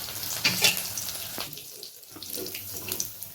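Puris fry in oil with a bubbling, crackling sizzle, steady and close, broken by a few sharp pops and a brief quieter stretch.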